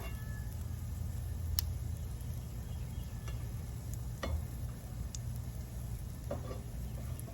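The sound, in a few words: pancake cooking on griddle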